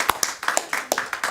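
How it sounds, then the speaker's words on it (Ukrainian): Sharp, separate hand claps land at an uneven pace, about ten in under two seconds, close and fairly loud, at a commemorative event marking the 80th anniversary of the deportation of the Crimean Tatars. "зігрітися, нагородивши бурхливими оплесками Мартіна Олександра Кислого і Ольгу Духніч."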